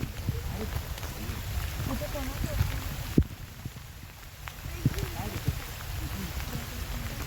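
Rain falls steadily on a wet hill-fort trail at Visapur near Lonavala, a continuous close patter and hiss with scattered drop impacts, while people talk over it.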